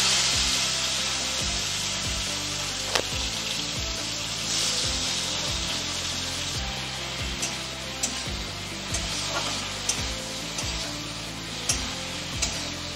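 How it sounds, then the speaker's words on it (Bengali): Prawns frying in hot oil with a pinch of turmeric, a steady sizzle and crackle throughout, with a few sharper pops and regular low rhythmic thumps beneath. "এবার সব চিংড়ি মাছগুলো ভেজে উঠিয়ে নেব"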